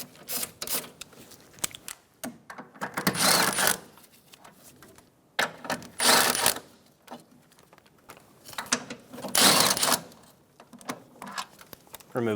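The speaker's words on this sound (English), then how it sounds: "Using a 15mm socket, we're going to remove the 2 nuts and 1 bolt for the motor mount." A ratchet with a 15mm socket removes the motor mount nuts and bolt on a 2012-2020 Chevrolet Sonic, producing repeated bursts of close, rapid clicking separated by short pauses and handling noises.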